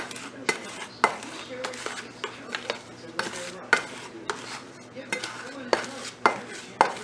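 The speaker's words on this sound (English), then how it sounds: "So I just keep mixing and mixing and mixing." Miniature brick mixture for a dollhouse being stirred in a container, a steady scraping with repeated sharp clinks and knocks of the utensil against the sides, close and fairly loud, with no talking.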